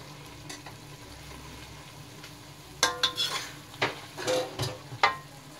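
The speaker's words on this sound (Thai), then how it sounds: "ใส่ผักลงไปเลยแล้วก็ผัดให้เข้ากันนะคะ" Korat-style rice noodles with vegetables being stir-fried in a pan: a low steady sizzle gives way to a run of sharp scraping and clattering stirs in the second half, close and fairly loud, with no talking.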